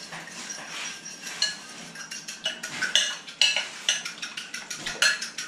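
Egg and milk being stirred together in a bowl, a utensil clinking and scraping against the sides in a quick, steady rhythm of close, bright taps that grows busier toward the end.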